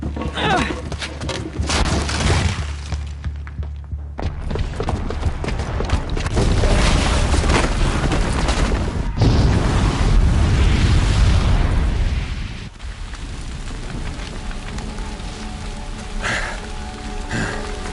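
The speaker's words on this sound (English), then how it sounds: "the booby trap on the bomb downstairs is gonna get set off" A booby-trapped bomb going off in a video game, a loud sustained explosive roar with crackling debris that builds and then drops away into lingering rumble and scattered noise.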